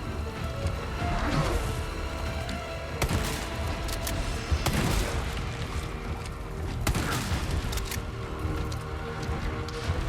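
Shotgun blasts ring out in Resident Evil 4 Remake, several heavy booms spaced a few seconds apart over a dense, loud game soundscape, with no one speaking.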